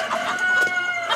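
Brahma chickens on a poultry farm in Bagerhat make a brief burst of clucking and a crowing call, close by and alone, lasting only about a second.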